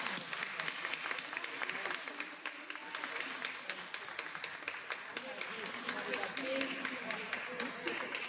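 An audience at the opening ceremony of an African and Afro-descendant cultural festival claps in a steady, dense patter of applause, heard from within the crowd.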